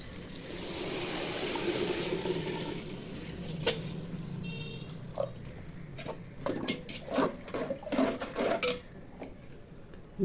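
Water pours steadily into a cooking pot holding rice for khichuri, a continuous splashing rush that gives way to scattered clinks and knocks of the pot and utensils.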